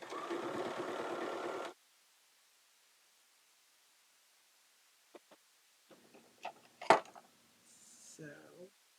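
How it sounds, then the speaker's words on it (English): A sewing machine stitching fabric squares in an assembly line, a fast rhythmic motor whir for under two seconds, then quiet handling clicks and rustles with a brief voice near the end. "assembly line stitch these"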